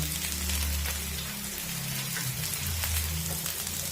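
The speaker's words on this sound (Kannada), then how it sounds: "ಮೆಣಸಿನ್ಕಾಯಿ ಎಲ್ಲ ಚೆನ್ನಾಗಿ ಫ್ರೈ ಆಗಿದೆ" Onions, green chilies and grated coconut frying in a pan for a Tamil Nadu style khara chutney, giving a steady, close, rain-like crackle and sizzle with a low hum beneath, no talking.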